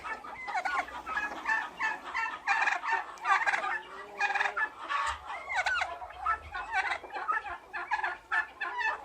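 Domestic turkeys gobble repeatedly in rapid, warbling bursts, with clucking turkey hens mixed in, moderately near and continuous throughout.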